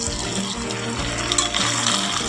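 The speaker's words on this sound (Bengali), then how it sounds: "এখন আমি মশলা দেওয়া জলটা ঢেলে দিচ্ছি" Spiced water poured into a pan of frying goat meat, a continuous close splashing and gushing liquid sound with a low bubbling undertone.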